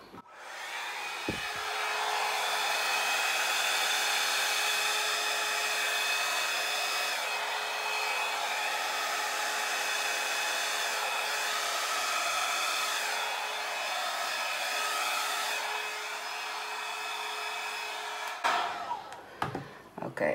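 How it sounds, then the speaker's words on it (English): A hair dryer blows over wet acrylic paint in a Dutch pour fluid-art painting, giving a steady, close, continuous whir for about eighteen seconds before it shuts off. "Okay, I think I will use my hair dryer."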